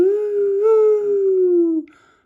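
A voice imitates a siren with one long wailing note that rises slightly, holds, and slowly falls before cutting off.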